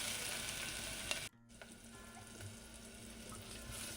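Onions or aromatics sautéing in oil in a pan for a Kerala chickpea curry, giving a steady soft sizzle and frying hiss with a momentary break, then faint stirring scrapes as the sizzle continues.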